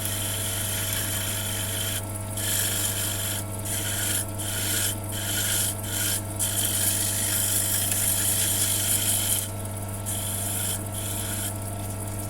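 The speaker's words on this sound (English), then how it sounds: "I'm just going to put it in the lathe really carefully, just so I can sand this bit" Sandpaper on a small wooden thumb-turn lock part spinning on a lathe: a continuous close rasping and rubbing over a steady motor hum, broken by several brief regular pauses.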